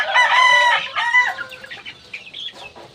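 A rooster crows loudly and close by, followed by chickens clucking. The birds are an oriental breed, Asil type.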